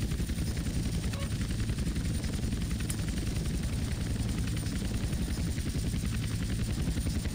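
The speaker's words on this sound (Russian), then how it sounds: "Тут с вертолетом, блин, по-дурацкому, то, что мышкой надо управлять." Helicopter in GTA San Andreas Definitive Edition, a loud continuous rotor thump with a rapid chopping pulse and heavy low drone, steady throughout with no voices.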